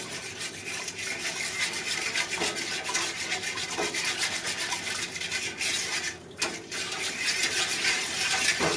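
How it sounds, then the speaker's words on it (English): A whisk scrapes steadily around a bowl, stirring clear gel thickener into Amish apple pie filling: a continuous, close, rasping rub that never lets up, with a brief dip near the end. "Now, we want to make sure that we really whisk this good."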